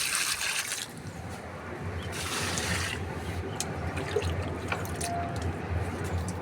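Liquid fertilizer is poured bit by bit onto home garden plants like eggplant, lemon, jasmine and mint, making a close, continuous trickling splash with small dribbles toward the end.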